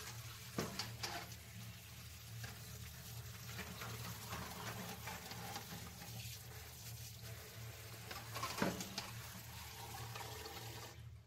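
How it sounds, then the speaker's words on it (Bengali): Cut cauliflower is washed in water, with a soft, steady splashing and running-water wash throughout and a few faint louder sloshes. "এবার কপিটাও আমি খুব ভালো করে ধুয়ে নেব"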